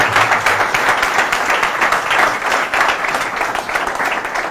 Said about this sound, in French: Pour applaudir la personne qui a préparé cette présentation,